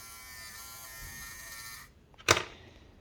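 A small electric pump motor spinning on 12 volts, a close high buzzing whir that runs steadily for about two seconds and cuts off, followed by a single sharp click.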